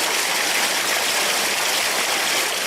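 A small unnamed creek beside the Blue Chip Mine rushes steadily, a dense, even wash of flowing water close by with no breaks and no voices.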